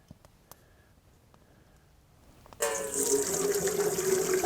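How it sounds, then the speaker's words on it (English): Walnut dye water poured from a dye pot into a water bath canner: quiet faint knocks at first, then a sudden loud, steady gushing pour that continues to the end. "pour this in"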